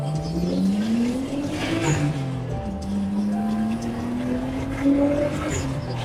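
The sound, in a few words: Nissan R32 Skyline car driving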